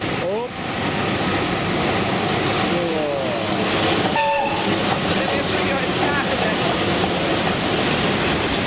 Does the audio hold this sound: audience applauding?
no